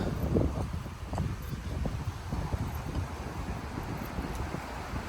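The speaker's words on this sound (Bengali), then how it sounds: "অত্যন্ত বাতাস আজকের" Strong wind buffets the microphone on the Western Sydney University campus, a soft but constant rumbling gust noise with uneven low bursts and no talking.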